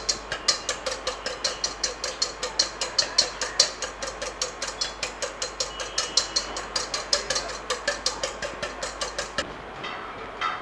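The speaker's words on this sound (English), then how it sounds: "We whisk the egg whites till it's a bit foamy." Egg whites being whisked until foamy for royal icing, a brisk, steady beat of whisk strokes against the bowl, about four per second, close and even throughout before stopping abruptly near the end.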